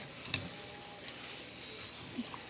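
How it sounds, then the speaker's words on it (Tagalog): Pork being stirred in its marinating mixture for sinantomas, a soft wet scrape and sizzle-like texture with one faint clink, steady and close with no talking. "Haluin lang natin siya."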